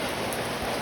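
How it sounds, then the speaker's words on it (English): Rain pouring outdoors on a farmyard where ducks are kept, a steady, dense hiss of drops falling close by, with no voices over it. "I am out here in the rain and I just got a notification that rain's going to start in 15 minutes. It just was pouring all of a sudden."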